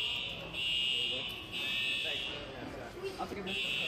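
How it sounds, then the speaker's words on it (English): A fire alarm sounds in repeated loud, shrill electronic beeps, on and off, while people talk nearby underneath it. "The fire alarm's going off."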